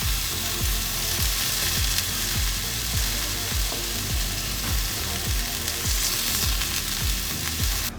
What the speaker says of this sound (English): just to help the cooking process quicken a bit, we're gonna just flatten the meatballs